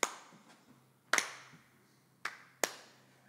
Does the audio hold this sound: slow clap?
yes